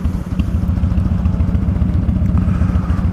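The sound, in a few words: Buell XB12SX motorcycle engine idling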